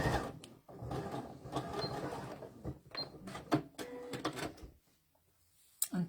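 A sewing machine runs a normal-size stitch along a shirt collar stand, a steady faint mechanical whir that pauses briefly, then a few short clicks and a sharp tap near the end.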